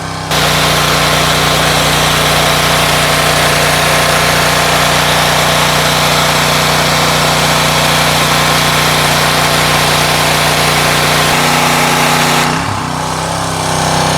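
A VEVOR 7HP petrol engine on a 3600 PSI pressure washer runs loud and steady close by, a constant rough drone with a slight shift in pitch near the end before it drops away.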